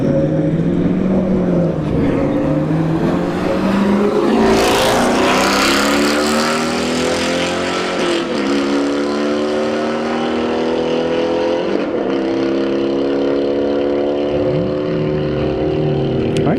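Two sixth-generation Chevrolet Camaros, an SS and an RS, launch down a drag strip at a test-and-tune street event, engines roaring hard and climbing through gear changes, loud and continuous, with another engine audible at the end.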